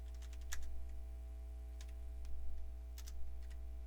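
Computer keyboard keys clack in short irregular clusters of taps, quiet and close over a steady low electrical hum, with no voice.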